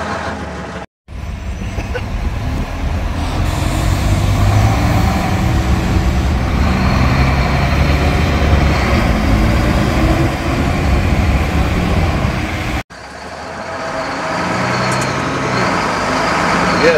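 The heavy engine of a London AEC Routemaster bus drones loudly and steadily as it drives through traffic, with brief breaks in the sound near the start and end.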